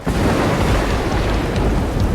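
Thunder rolls through a Congo airfield just before takeoff, a steady, loud low rumble mixed with rain-like hiss, holding for about two seconds with no talk.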